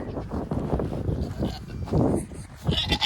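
A farm goat gives a few short bleats close by, mixed with nearby human chatter and outdoor noise.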